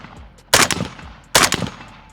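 Two loud, close rifle shots from a Bulgarian Red Star BSR47, spaced about a second apart, each a sharp blast with a short rattling echo tail.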